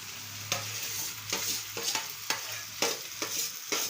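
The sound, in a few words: potatoes stirred into frying spices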